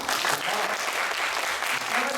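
A church congregation at a Sunday worship service breaks into a short burst of lively, dense clapping, close and steady throughout.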